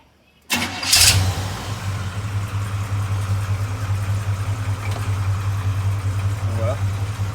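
A low-mileage Chevrolet Cheyenne pickup with a 454ci V8 cranks and fires up abruptly, then settles into a steady, deep, loud idle that continues to the end.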